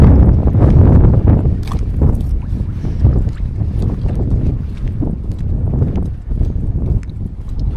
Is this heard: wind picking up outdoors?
yes